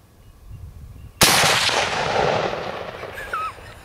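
A single loud .300 Winchester Short Magnum rifle shot cracks sharply outdoors, followed by a long rolling echo that fades across the open ground.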